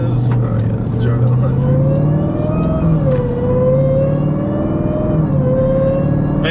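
Supercharged Jeep Trackhawk engine with a loud blower whine, droning and rising steadily while driving, heard from inside the cabin as people talk over it.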